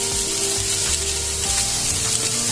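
Carrots and other vegetables fry in a pan for a bean burrito filling, producing a loud, continuous close-up sizzle with a steady tonal hum underneath.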